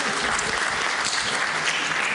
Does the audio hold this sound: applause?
yes